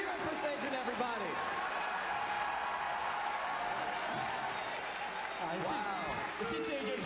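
A large arena crowd at a Pokémon world championship match keeps up steady applause and cheering throughout, a dense, continuous roar with no pauses.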